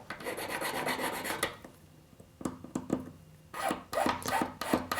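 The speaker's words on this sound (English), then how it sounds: "I just want to file off that bit of burr." A metal file rasps across the sawn edge of a silver ring to clear the burr, in steady back-and-forth strokes, then a pause and a few sharp scrapes before another run of quick, close filing.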